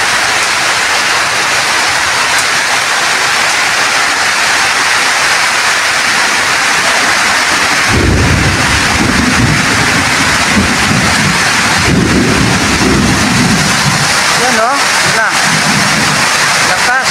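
Heavy rain pours steadily throughout a thunderstorm over a flooded area, and deep rumbles of thunder swell in the second half. People talk now and then beneath the constant downpour.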